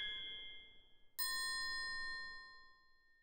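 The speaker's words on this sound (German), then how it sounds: "Es gibt in dieser Abteilung aber auch Instrumente wie das Xylophon. und das Glockenspiel." A xylophone note rings briefly before a glockenspiel strikes a single bright, bell-like note that sustains and slowly fades, with no talk.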